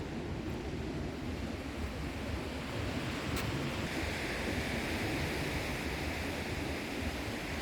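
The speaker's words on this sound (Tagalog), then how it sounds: "Marinig mo yung tunog ng agos ng dagat." Sea waves wash onto the shore near a hotel in Crete, Greece, a soft, continuous surf rushing quietly in the distance with some wind noise and no talk.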